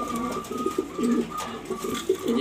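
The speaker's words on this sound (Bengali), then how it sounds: "বেশ এই দুইটা দুই পরের বাচ্চা কবুতর।" Young pigeons kept for sale coo close by in soft, repeated throaty rolls that overlap in an uneven rhythm over a low background hum.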